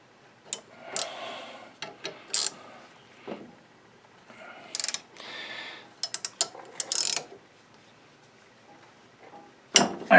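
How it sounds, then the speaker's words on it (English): A ratcheting wrench loosening a nut on the steering of a John Deere riding mower, several short bursts of rapid clicking separated by quiet pauses, close and fairly loud. "Slide your wrench on this one."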